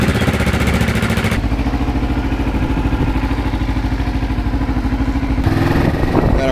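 Kawasaki Ninja 650R motorcycle engine running steadily while riding over a leaf-strewn road, a close, loud, continuous drone with a shift in tone partway through.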